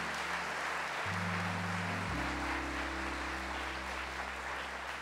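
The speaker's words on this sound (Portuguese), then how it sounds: "Vamos aplaudir a comunidade Missão Sede Santos." A church congregation applauding a religious community, a steady wash of clapping from many hands sustained for several seconds under a low organ-like tonal drone that steps upward.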